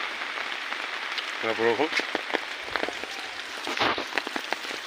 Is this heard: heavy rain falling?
yes